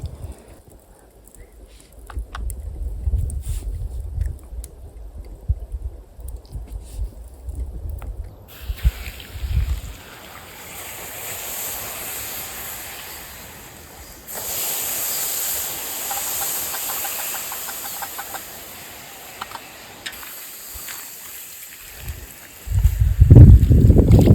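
Wind blows outdoors beside a swamp pond, gusting across the microphone as a rough low rumble that gives way to a brighter, steady hiss, rising again at the close.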